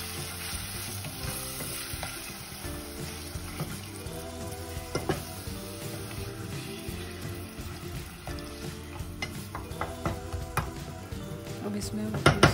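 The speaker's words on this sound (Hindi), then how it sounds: "मटन डालेंगे। तो अच्छे से मिला लेंगे" Mutton sizzling in a pot while being stirred and mixed, a steady crackling fry running throughout with scraping stirs and occasional clinks, fairly close, with faint talk over it.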